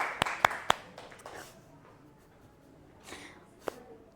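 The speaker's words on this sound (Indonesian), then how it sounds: "Tepuk tangan dulu." Students in a classroom clap their hands in a few quick, sharp bursts, a short scattered round that fades into quiet, with another lone clap near the end.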